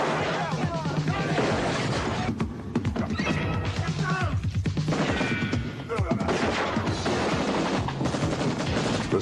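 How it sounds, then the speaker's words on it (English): A movie gun battle staged for Raw Deal: dense, loud action-film mayhem with rapid gunfire bursts, whinnying horses and clattering hooves, all continuous and chaotic, with voices mixed in. "The spectacular gun battles in Raw Deal were accomplished by long hours of planning and preparation"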